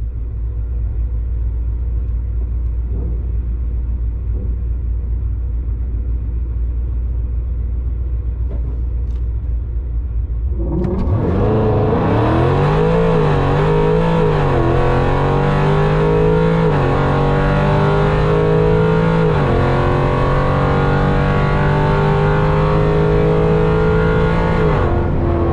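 A cammed 5.7 Hemi Dodge Challenger R/T launches at a drag strip, a steady idle rumble suddenly bursting into a loud, sustained wide-open roar with clear gear-change dips as it pulls hard down the track.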